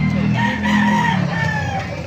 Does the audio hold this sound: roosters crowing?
yes